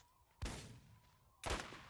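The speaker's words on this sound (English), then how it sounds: "Someone else is shooting at me." Two sharp gunshot bursts about a second apart ring out in the Borderlands video game, each loud and broadband with a quick decaying tail over a faint steady tone.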